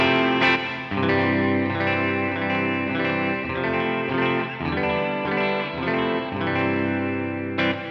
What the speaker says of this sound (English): big hall, thick hall reverb